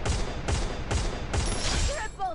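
Rapid gunfire in a shooter video game, four sharp evenly spaced shots landing a headshot, then a sweep of tonal game effects and a final thud, loud and close.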